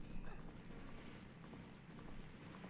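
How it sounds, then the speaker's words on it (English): Epona the horse galloping in the video game Zelda: Majora's Mask, a steady rhythmic clip-clop of hooves over a dense, constant game soundscape. "Please stop running, you dumb horse."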